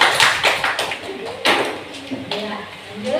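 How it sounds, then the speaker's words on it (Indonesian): A school class applauds in an Indonesian classroom after a simple flashlight project. Scattered claps come in short bursts, mixed with voices. "kita kasih tepuk tangan dulu"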